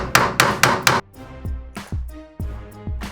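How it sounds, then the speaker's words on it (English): Sharp metal-on-metal hammer strikes ring out close by as a screwdriver is driven through a shifter bushing sleeve on a Mitsubishi Eclipse, a quick burst of four blows followed by several slower, resonant hits. "you just hammer it until it comes through on the other side"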